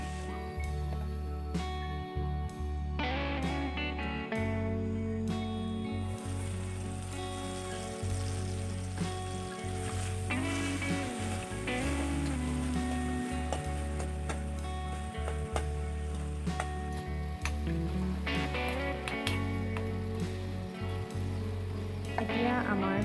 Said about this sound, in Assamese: এইখিনি মই পুনৰ অকণমান দেৰি ভাজি ল'ম।